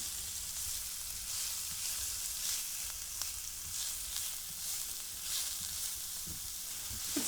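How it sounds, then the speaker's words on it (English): Onions sautéing in a pan make a steady, close sizzle and crackle for Shepherd's pie, with occasional stirring scrapes and no talking. "And we're just going to saute them real good. Keep them moving around."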